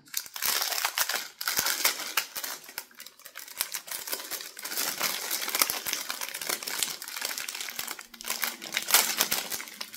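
A small plastic-packaged brush protector from a Shein haul is opened, giving close, continuous crinkling and crackling of thin plastic with irregular bursts for about ten seconds.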